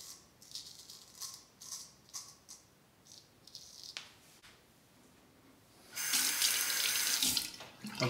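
Cold water runs from a tap while a straight razor is rinsed, starting as short splashy bursts and then becoming a loud, continuous gush near the end, with light metallic rattles.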